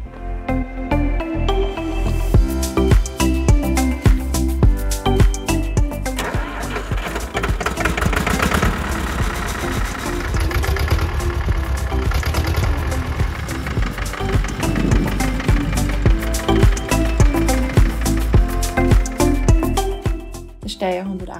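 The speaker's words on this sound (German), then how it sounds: "jetzt wollen wir mal den Klang vom Zweizylindermotor hören und fahren einmal eine Runde" Steyr 188 tractor with a two-cylinder engine running and driving a lap, a steady loud chugging rumble throughout, with talk over it.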